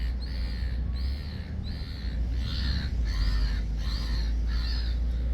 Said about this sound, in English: Seagulls are really aggro, as you'd expect